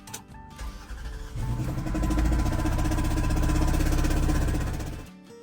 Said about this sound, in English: Customer states, noise coming from the engine.